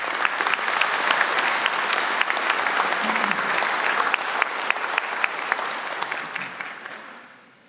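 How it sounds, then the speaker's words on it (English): Crowd applause at a university graduation ceremony, thick continuous clapping with sharper individual claps standing out, sustained for several seconds before tapering off. "Ladies and gentlemen, a big round of applause"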